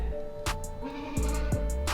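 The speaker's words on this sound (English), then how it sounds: "You can hear the goats making noise with their food bowl out there." Goats bleat outdoors near a food bowl, with several short, loud calls spaced across a couple of seconds over a steady background hum.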